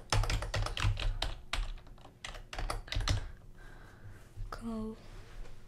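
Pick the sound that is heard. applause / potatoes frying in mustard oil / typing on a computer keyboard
typing on a computer keyboard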